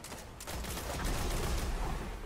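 A burst of rapid gunfire in a sci-fi first-person shooter, dense overlapping shots rattling close and loud for a couple of seconds.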